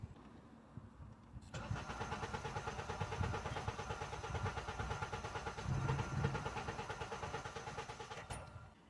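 A Honda with a 2.4 engine and a P0340/P0344 camshaft sensor fault cranks without firing, a rapid rhythmic starter chug that runs continuously for about seven seconds and then cuts off, heard nearby.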